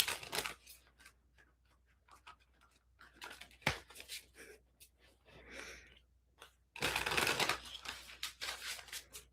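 A deck of tarot cards is shuffled by hand close up, making soft scattered riffles and taps, with a louder, denser burst of shuffling near the end.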